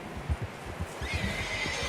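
A horse whinnies and stamps its hooves in the Red Dead Redemption 2 video game, a short close neigh over a few clip-clop hoof falls.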